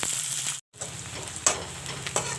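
Sliced onions sizzle and crackle in a hot pan alongside bay leaves, a steady close frying hiss broken by a brief cut and occasional louder pops or stirs.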